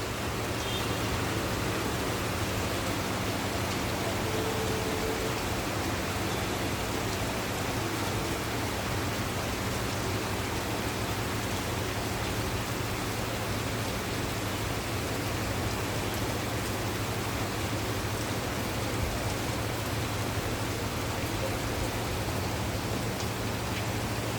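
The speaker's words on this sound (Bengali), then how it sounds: "প্রচুর বৃষ্টি হচ্ছে আজকে দুপুর থেকে" Steady, dense rain pours down continuously onto a tin roof, a constant hiss with no pauses and no voices.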